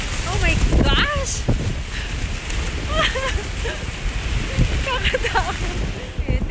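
Strong wind buffets the microphone on a long skywalk suspension bridge in Shizuoka, Japan, a loud continuous rumbling roar under a woman's excited speech.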